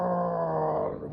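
A voice imitates a truck Jake brake with a brief, low, buzzing groan that fades out after about a second.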